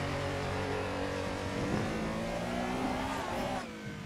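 Porsche engine revving in the racing game Assetto Corsa during a touge mountain-road battle, a steady loud drone with rising and falling pitch sweeps as the car accelerates, easing off near the end.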